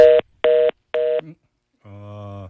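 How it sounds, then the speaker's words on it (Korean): A dropped phone interview line gives three short, loud electronic beeps in an even rhythm, then a steady lower tone begins, with no voices. "지금 전화 인터뷰 도중에 전화가 끊겼습니다. 갑자기 삐삐 소리가 나는데"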